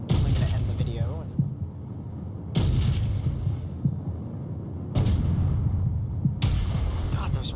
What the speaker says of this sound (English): those rocket turrets are active